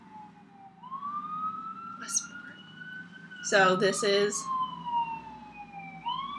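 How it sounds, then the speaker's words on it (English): A siren wails steadily in the distance throughout, its pitch slowly rising and falling, while a person speaks briefly over it. "So also there's sirens."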